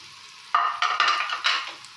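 Green chillies and ginger dropping into a hot pan, a sudden burst of sizzling followed by a few crackling stirs, close and brief, tailing off softly.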